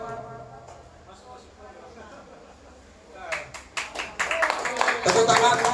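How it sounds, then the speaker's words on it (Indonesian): Audience hand clapping at a gathering in Indonesia, starting about halfway through after quieter talk and growing to dense, fairly loud applause by the end. "Tepuk tangan."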